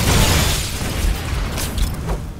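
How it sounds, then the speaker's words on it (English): Dense, roaring blasts from Halo CE combat fill the whole stretch, heavy and loud with a broad rumbling wash and a couple of sharper bursts near the middle, with no voices over them. "No, their explosions are also bigger."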